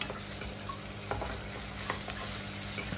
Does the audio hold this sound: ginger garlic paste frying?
yes